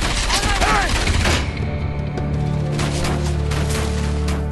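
Rapid gunfire from a combat scene in the video game Enslaved: Odyssey to the West, loud bursts in the first second or so, then fading into a sustained mechanical drone.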